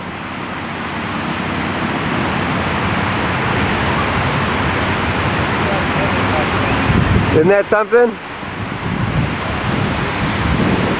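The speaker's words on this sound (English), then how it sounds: "We're going to go over here and take a look at the water wall." The Houston Water Wall fountain in a Galleria-area park sends cascading water down in a loud, steady, broad roar that fills the scene, with a voice briefly speaking over it near the end.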